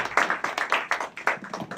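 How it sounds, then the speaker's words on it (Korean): A small group at a prayer meeting claps for a short burst, the individual hand claps distinct and fairly close. "박수 한번 해주시죠"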